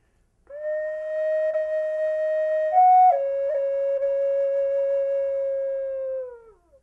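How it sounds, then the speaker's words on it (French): A handmade Native American-style flute plays long, sustained breathy notes, holding one pitch, briefly stepping up to a higher note, then settling lower and fading out. It is clear, close and solo. "je construis des flûtes amérindiennes, comme flûte à bec"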